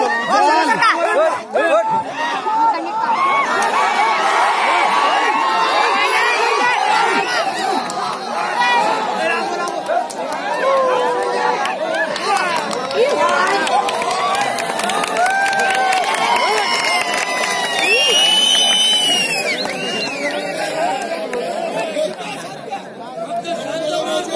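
Crowd at a village wrestling match in Partur, Parbhani, a dense continuous roar of chatter, shouts and whistles with scattered cheering and some clapping, loud and close throughout.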